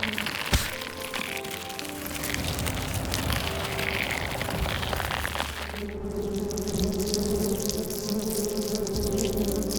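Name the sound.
wasps and bees buzzing on Amazon forest floor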